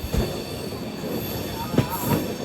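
Interior of a crowded general-class coach on an Intercity Express train running between Tiruppur and Coimbatore: a steady rumble and rattle with brief wheel squeals and clanks, close and continuous.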